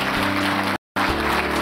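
A conference audience bursts into steady applause at the close of a leaders' forum breakfast lecture, a dense wash of clapping that cuts out briefly in the middle and then resumes.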